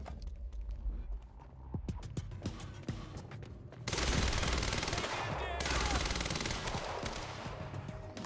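Gunshots in Quantum Break: a sparse run of single shots gives way to two long, loud bursts of rapid automatic fire, close and dominant, with combat noise between them.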